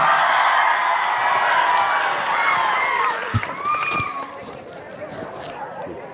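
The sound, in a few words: audience applause welcoming speaker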